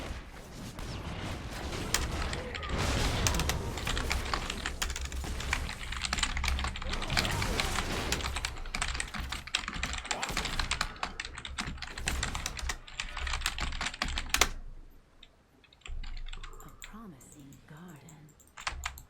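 Fast, hard typing and clicking on a computer keyboard during a game rattles on densely for about fifteen seconds, mixed with game effects and a talking voice, then drops away to quieter sound.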